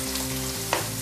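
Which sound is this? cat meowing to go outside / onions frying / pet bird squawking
onions frying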